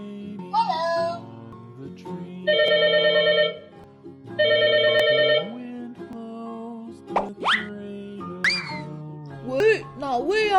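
A toy telephone from a children's toy set rings in two bright electronic bursts, each about a second long, followed by squeaky cartoon-style voices and plopping toy sounds.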